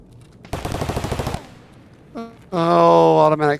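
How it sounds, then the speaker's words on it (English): Short burst of rapid automatic gunfire from Escape From Tarkov, about a dozen quick crackling shots in roughly one second, followed by a pause and then a loud voiced sound from a player. "Oh, automatic fire."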